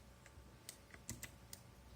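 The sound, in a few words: typing on Sharkoon PureWriter TKL mechanical keyboard, Kailh Blue switches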